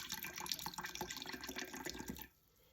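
Water is poured into a measuring cup for a balsamic salad dressing, a short splashy trickle that runs close and steady for about two seconds, then stops abruptly into near silence.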